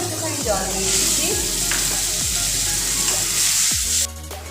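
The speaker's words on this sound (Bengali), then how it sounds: "সামান্য একটুখানি জল দিয়ে দিচ্ছি।" A little water poured into a sizzling chili and turmeric paste in a frying pan, giving a loud continuous close hiss broken by repeated spatula scrapes before it briefly drops away.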